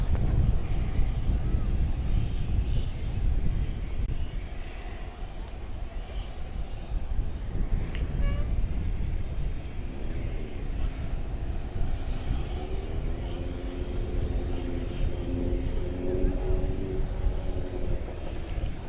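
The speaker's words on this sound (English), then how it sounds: "So that was American Flight 9786 coming in from Los Angeles" An American Airlines airliner on a ferry flight from Los Angeles taxiing at DFW Airport at night, a low steady engine rumble heard from a distance with wind noise and a rising whine toward the end, no talk.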